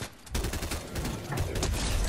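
Fortnite gameplay with a burst of SMG fire: rapid shots rattle continuously and loudly with almost no gaps between them.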